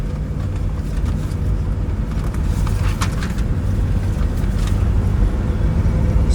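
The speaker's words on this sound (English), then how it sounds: "Drives down the road excellent." A 1969 Chevrolet C10 short-bed pickup with a 350 V8 and automatic transmission cruising down the road, a loud, steady engine and road rumble with wind noise that builds slightly toward the end.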